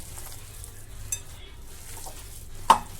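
Spinach pakoda batter is mixed by hand in a bowl, making soft, continuous wet stirring with a couple of light clinks against the bowl. The sound is quiet and close, with no talk.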